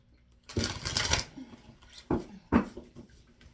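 Tarot cards being shuffled up close, one longer riffle followed by two short bursts.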